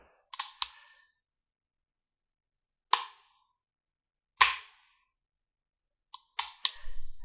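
A RISE Armament RA-140 Super Sporting trigger fires a handful of sharp, loud gunshots, spaced a couple of seconds apart with one quick double near the end, each snapping cleanly out of near silence.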